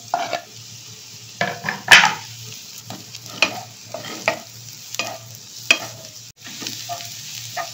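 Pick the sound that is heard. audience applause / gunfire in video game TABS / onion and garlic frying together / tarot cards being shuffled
onion and garlic frying together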